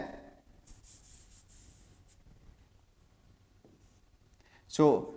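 Marker strokes scratch and squeak across a whiteboard in several short bursts during a lesson, with a louder scrape near the end, while someone speaks.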